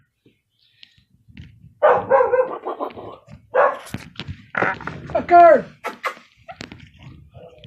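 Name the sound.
dog barking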